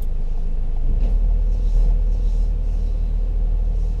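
A car's engine rumbles low and steady as it pulls forward from a kerb during a UK driving test parallel-parking manoeuvre, loud and constant throughout.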